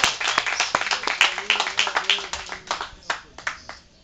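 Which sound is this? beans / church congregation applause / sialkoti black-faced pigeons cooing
church congregation applause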